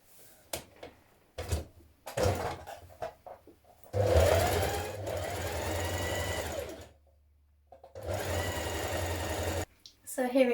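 Sewing machine running a narrow zigzag stitch along the raw edge of fabric scraps for a top, in two sustained bursts between brief pauses, with a person talking at other moments.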